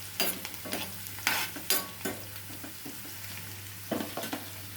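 Onions fried with turmeric, salt and chilli powder in a pan, sizzling quietly under a series of sharp spatula scrapes and knocks against the pan in irregular bursts, with a low steady hum behind.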